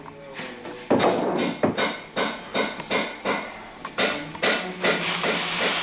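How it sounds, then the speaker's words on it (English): Dowels are tapped into a warm motorcycle engine crankcase in a workshop, giving a close series of about ten light, regular metallic taps and knocks with a faint hiss underneath. "Now we want to just pop the dowels into the main crankcase."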